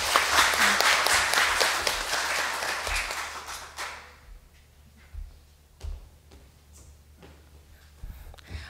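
Audience applause at an indoor meeting welcomes the next presenter, dense clapping for about four seconds before it thins out to a few scattered claps and soft thumps.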